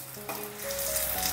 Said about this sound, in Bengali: এক পিঠটা ভাজা হয়ে গেছে, এবারে আমি উল্টে দিচ্ছি।